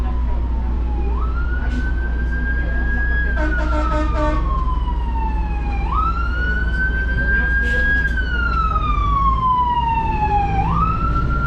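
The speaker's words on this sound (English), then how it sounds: "Got a fire engine coming down the road." A fire engine's siren wails along the road, rising and falling in long sweeping cycles over steady traffic rumble, with a short burst of yelping tones and some talk in the background.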